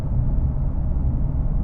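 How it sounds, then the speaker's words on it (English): Ford Mustang V6 fitted with a Roush exhaust, a steady low rumble at cruising, dense and mostly bass with little high end, heard alone at moderate loudness. "the Roush exhaust sounds amazing for the money"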